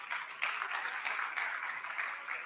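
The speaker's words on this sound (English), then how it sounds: "So round of applause to each and every one of you for being here." Room of supporters at a primary election watch party breaking into steady applause, dense continuous clapping at even loudness for a couple of seconds, with no talk over it.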